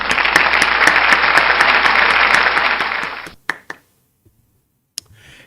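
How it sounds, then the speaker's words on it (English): At an organization's meeting, an audience gives board members a loud, dense round of applause that lasts about three seconds and then stops abruptly, followed by a few scattered late claps and quiet clicks. "Let's give them a round of applause."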